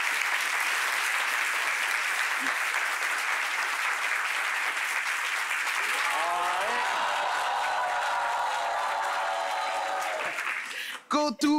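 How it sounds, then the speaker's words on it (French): Loud, sustained audience applause welcomes guests onto a French-language talk show stage, then gives way near the end to music and a brief burst of noise. "On les applaudit très fort."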